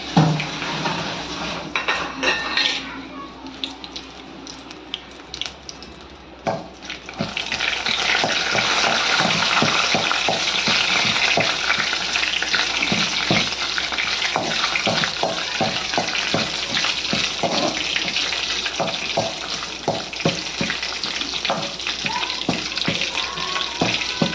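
Cinnamon, cloves and a bay leaf sizzle and crackle in hot oil in a pot for mutton soup, a steady close frying hiss with a scraping stir and small clinks.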